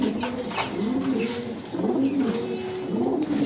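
Pigeons coo in a loft in repeated low, rolling phrases that overlap one another, close and steady over a faint background hiss, with no talking.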